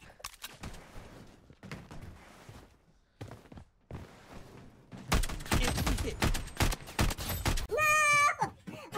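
Video-game gunfire in Bloodstrike arrives as bursts of sharp shots, sparse at first, then a dense, loud rapid volley near the end. A pitched electronic tone sounds during the last second.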